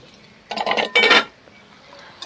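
A lid lifts off a cooking pot of pork and koorka (Chinese potato) with two short metallic clatters close by. Quiet room tone follows, with no speech.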